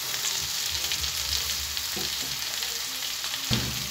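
Fish frying in shallow oil in a small frying pan, a steady close sizzle and crackle with occasional soft stirring or turning knocks, no voices.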